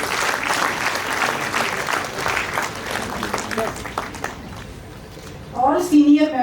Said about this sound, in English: Please give a loud applause